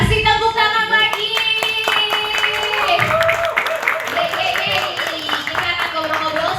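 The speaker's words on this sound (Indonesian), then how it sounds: "Kasih tepuk tangan lagi." Bobotoh fans at a Persib club discussion event clap together, a dense, continuous patter of applause over music and background voices throughout.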